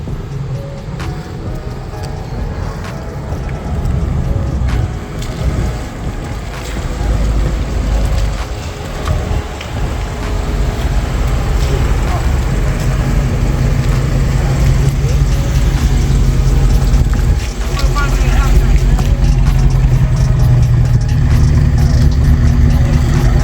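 A widebody Dodge Challenger drives around a building outdoors, its engine a low, steady rumble that swells and fades under strong wind noise.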